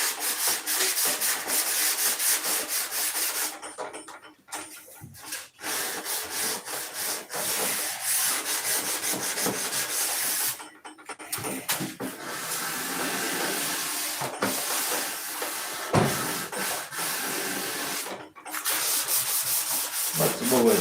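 Wood being sanded makes loud, close, continuous scratchy rubbing strokes that carry on for most of the time, broken by a few short pauses.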